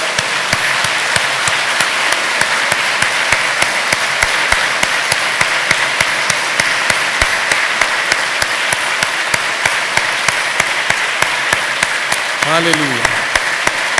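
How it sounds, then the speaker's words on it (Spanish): A church congregation applauds loudly and continuously, with dense, rhythmic clapping and a voice calling out over it near the end. "¿Le podemos dar un fuerte aplauso a la palabra de Dios?"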